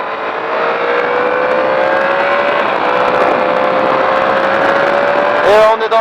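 A vehicle accelerates hard on the Magny-Cours race circuit, its engine note climbing steadily and loudly up through the revs before a quick gear change near the end.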